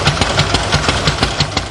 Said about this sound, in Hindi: 500 सीसी की ये बाइक स्टार्ट हो जाए तो फिर कहीं रुकने वाली नहीं।